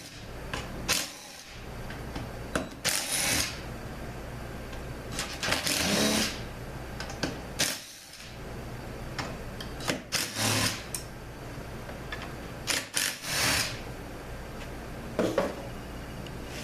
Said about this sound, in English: Now we'll get the bolts out of the regulator assembly.